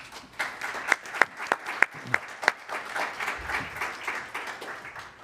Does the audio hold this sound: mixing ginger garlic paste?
no